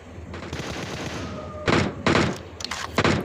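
M4 rifle fire in a battle royale video game, heard as a few sharp bursts of loud rapid shots after a quieter stretch of in-game ambience.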